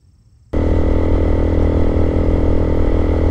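Honda Grom motorcycle with an aftermarket Zoom exhaust starts abruptly after a brief near-silence and settles into a loud, steady, close-up idle.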